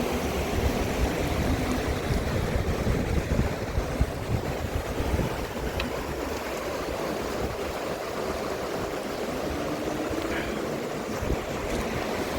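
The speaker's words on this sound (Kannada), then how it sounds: "ನೀರು ಎಲ್ಲಿಂದ ಎಲ್ಲಿವರೆಗೂ ಹರಿತಾ ಇದೆ." River water flowing through the Kaveri at K.R.S. Dam near Mysore, Karnataka: a steady, broad rushing wash with wind buffeting the microphone, continuous and fairly close, with no voices.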